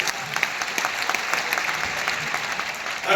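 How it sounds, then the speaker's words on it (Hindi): An audience at a business meeting in Lucknow claps together in a brisk, even round of applause that holds steady for a few seconds before swelling slightly at the end. "अनिल के लिए ताली होनी चाहिए"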